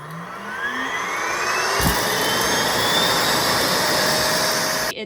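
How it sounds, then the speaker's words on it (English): A Moonsga MR7 Pro robot vacuum's base station emptying the dust bin, a loud close suction roar with a rising whine that holds steady for several seconds before cutting off abruptly. "Charging. Dust collection starts."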